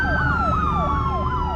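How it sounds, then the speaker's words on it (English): In the video game The Uncertain, a robotic police car's siren sweeps up and down in quick, regular cycles, loud and close over a low background drone. "I love how the robots are still using robotic police cars"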